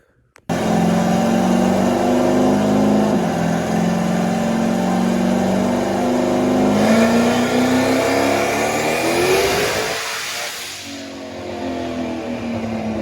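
A car engine on a chassis dyno runs at 25 pounds of boost, roaring loud and steady for about ten seconds as the revs climb, then dropping off briefly before it settles back to a lower drone.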